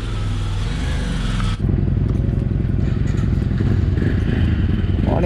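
A motorbike engine idles steadily close by, a low continuous rumble that picks up with a brief thump and settles into a denser running drone, with no talk over it.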